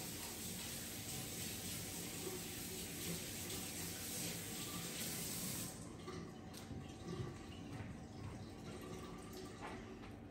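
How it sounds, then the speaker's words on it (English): Running tap water pours steadily as hands are washed at a kitchen sink, a close continuous rush that lightens partway through, with no talk. "Just over here washing my hands."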